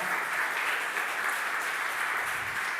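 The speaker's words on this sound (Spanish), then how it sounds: "Denle ese aplauso al Señor" Church congregation applauding during a sermon, dense continuous clapping from many hands filling the room at an even, fairly loud level with no speech over it.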